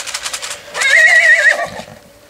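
A five-month-old Lusitano foal, just weaned, lets out a single loud, shaky whinny close by, preceded by a few quick breathy snorts and fading at the end.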